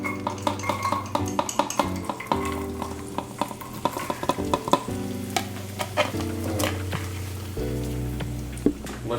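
Diced onions for a vegan lentil stew stirred in a pot with a wooden spoon, steady sizzling under repeated scraping and knocking strokes against the pot, close and clear with no talk.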